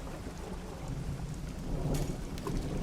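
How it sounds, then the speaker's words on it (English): Heavy rain and thunder from a storm at sea in the fishing game Dredge, a dense steady downpour with low rumbling thunder swelling midway and a few sharper splashes. "Sounds like the storm's getting pretty bad out here"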